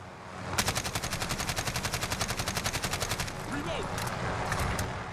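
An AK-12 assault rifle in Call of Duty Modern Warfare fires one long, steady automatic burst into a wall, with rapid evenly spaced shots close up for about three seconds, then a fading tail with faint clicks.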